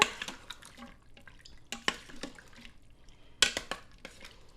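Frozen cheese tortellini are stirred into a pot of sausage and spinach soup, giving wet sloshing and liquid splashes. Irregular spoon clinks against the pot sound at close range.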